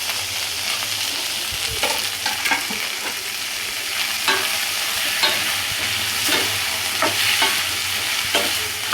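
Strips of capsicum, carrot and cabbage fry in a pan with a constant bright sizzle, broken by repeated scraping and tapping as they are stirred, close and continuous, with no talk.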